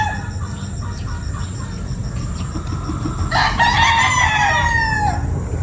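A class A gamecock stag crows once loudly and close, a long strained call rising then trailing off, after a few softer clucks over steady background noise.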